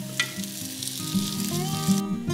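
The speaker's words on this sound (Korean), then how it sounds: "달궈둔 팬에 기름을 두르고 반죽을 적당한 크기로 부쳐냅니다." Kale pancake batter pan-fries in oil in a preheated pan over medium-low heat, giving a steady, close, continuous sizzle with faint tonal sounds underneath.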